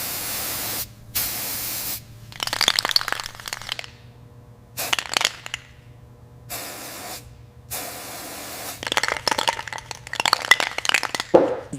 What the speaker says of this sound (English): This is the GT85 multi-purpose spray, guys.